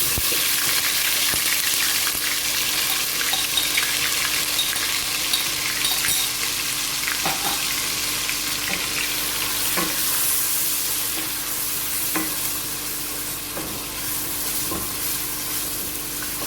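Ginger-garlic paste fries in a pan for chicken biryani with a steady, loud sizzle and occasional crackles and stirring scrapes, continuing throughout without talking.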